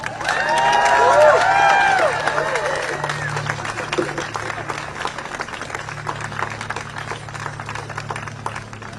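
Crowd applause and cheering at an outdoor student and faculty rally at Harvard, loud at first with whoops over dense clapping, then settling into steady, slightly fainter clapping and crowd noise with voices mixed in.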